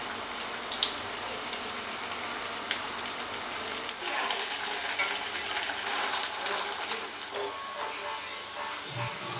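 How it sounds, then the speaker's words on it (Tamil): Scotch eggs deep frying in oil until golden brown, a faint steady bubbling sizzle with occasional small pops and light clicks, distant and quiet throughout, no voices. "இதே போல் எல்லா சைடும் வந்து நல்லா கோல்டன் ப்ரௌனாக நம்ம பொரித்து எடுத்துக்கலாம்"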